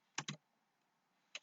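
A few quick keystrokes on a computer keyboard, two close clicks and then a lone tap after a pause, quiet and close with no voices.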